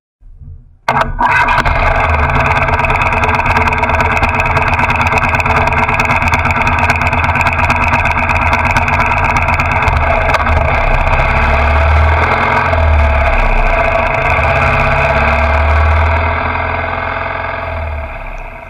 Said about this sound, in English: I eventually pulled away after telling myself the bike needed to warm up.